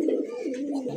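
Pigeons kept for sale coo in a low, continuous throaty warble close by, one sustained burble lasting about a second.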